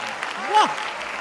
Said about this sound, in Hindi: एक बार दोनों हाथ उठाकर जोरदार तालियां।